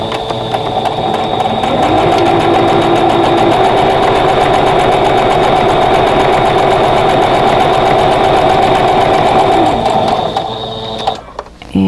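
Domestic sewing machine with a 1/4 inch piecing foot and 50 weight thread stitching quilt squares, a loud, close, rapid mechanical whirring run of about ten seconds that stops abruptly, followed by brief handling clicks.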